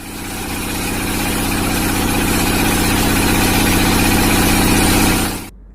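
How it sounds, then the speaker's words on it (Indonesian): Loud, continuous industrial machine noise, a dense mechanical drone with rhythmic thumping, steady throughout before stopping suddenly. "pencemaran suara pada mesin pabrik"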